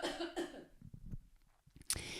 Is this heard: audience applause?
no